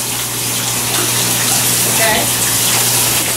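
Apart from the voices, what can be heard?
shower running water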